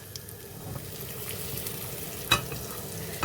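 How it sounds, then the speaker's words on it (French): Fat melting in a saucepan gives a steady, soft sizzle with faint crackles and one brief clink near the end, no voices. "dans une casserole, vous y mettez de la matière grasse."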